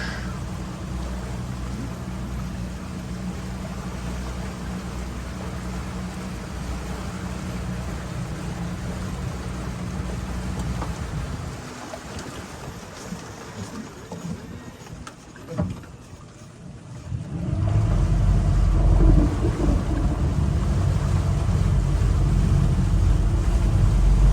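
A tour boat's outboard motor idling and then revving as it turns around in a canal, a steady drone that dips briefly and then returns louder and deeper near the end.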